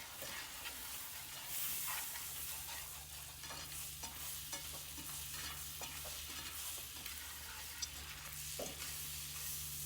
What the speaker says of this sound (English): mix that with a whisk to get everything stirred